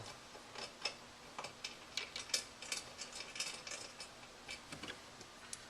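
An Allen key tightens a bolt while a side rack is fitted to an FJ Cruiser, giving quiet, close, irregular metallic clicks and ratcheting ticks spread across the whole stretch.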